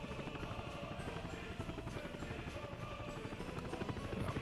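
Firefighting helicopter in the Workers and Resources video game: steady rotor chopping and engine whine, continuous and fairly close, getting slightly louder toward the end, with no talk.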